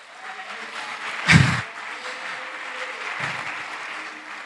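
A church congregation bursts into a short swell of applause that peaks and fades within a second, with a fainter second patter afterward against low room murmur.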